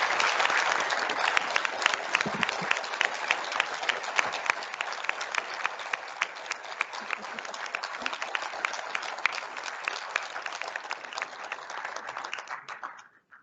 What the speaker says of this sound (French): je voudrais qu'on l'applaudisse bien fort pour ça